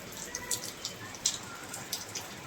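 Steady heavy rain hiss with scattered sharper drops pattering on a nearby rooftop terrace surface, fairly soft and continuous.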